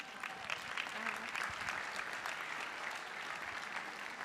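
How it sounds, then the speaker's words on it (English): A round of applause at a convocation ceremony, steady clapping from an indoor audience sustained for several seconds at moderate level. "give these guys a round of applause"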